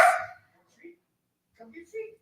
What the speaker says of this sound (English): I don't know if you guys can hear dogs barking.